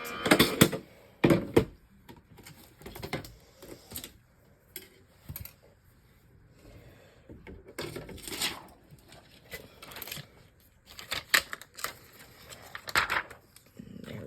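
A manual die-cutting machine cuts a die through acetate, cardstock and pattern paper, producing scattered sharp clicks and short ratcheting bursts separated by quiet gaps.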